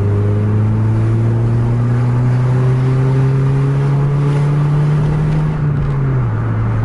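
A car engine pulls hard at full throttle, a loud, close, continuous drone that climbs steadily in pitch for several seconds before dropping slightly near the end, with no talk.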